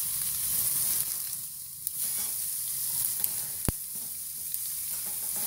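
Pork neck steaks searing in a hot pan give a steady quiet sizzle throughout, broken by a few soft clicks and one sharp tap as the meat is turned.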